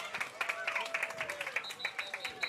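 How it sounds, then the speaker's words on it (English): Spirited crowd in the stands at Wilson Stadium in Kirtland during a Wickliffe vs Kirtland high school football regional playoff game, with scattered clapping and cheering under a steady murmur and some nearby talk. "Spirited crowd, a lot of folks here from Wickliffe as well as Kirtland"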